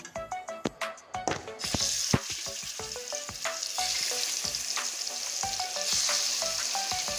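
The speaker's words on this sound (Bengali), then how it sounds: "এখানে আছে মশলা মাখানো মাংসটা এবার আমি ভেজে নিচ্ছি" Spice-marinated chicken hits hot oil in a pan for a chicken curry with potatoes, opening with sharp clattering knocks, then swelling into a loud continuous hiss and crackle of frying, close up with no talk.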